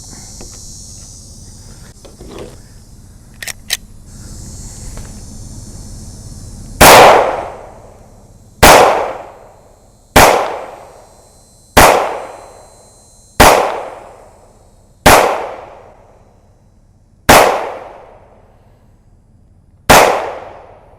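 During a round of small-arms shooting practice, eight sharp, loud shots ring out at irregular intervals of about two seconds, each decaying quickly, after a quieter stretch of faint handling noise.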